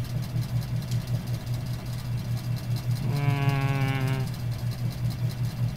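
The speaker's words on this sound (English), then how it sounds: "you're going to put them into an incubator shaker." A laboratory incubator shaker runs at 300 RPM, making a steady, low motor hum with a faint rhythmic pulsing and a brief rising whine near the middle.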